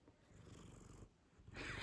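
A pet cat purrs close to the microphone, a soft, low, rhythmic rumble heard faintly in short pulses with no talking.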